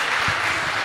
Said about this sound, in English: let's just give God a hand clap of praise this morning